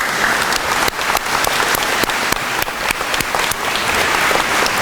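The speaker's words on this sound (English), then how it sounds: "one more round of applause for everybody" Loud, dense applause from an audience at an awards night, many hands clapping continuously nearby with a few sharper claps popping out of the wash.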